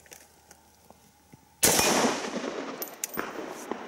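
Rifle fire at a steel plate target outdoors, one loud close blast followed by a long ringing, rumbling decay with scattered faint clicks before and after.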